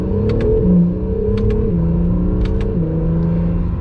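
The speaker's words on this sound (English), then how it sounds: "in Sport Plus mode, when you take off and you kind of rev this thing out" A 2020 Acura NSX in Sport Plus mode revs up through quick successive gear changes, its engine note climbing and dropping at each shift with sharp crackles between, loud and close from the cabin.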